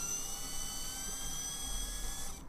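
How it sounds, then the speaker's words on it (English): A brushless drone motor driven by a 4-in-1 ESC spins up close by, producing a steady high-pitched whine with tonal overtones, heard alone for a couple of seconds. "Now let's check the motor direction."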